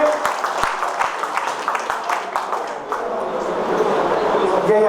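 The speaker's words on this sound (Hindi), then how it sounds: "तालियों से स्वागत करें।" Loud, dense applause from a crowd welcoming a guest on stage at a Digambar Jain community oath ceremony, a sustained patter of clapping with a voice carrying over it.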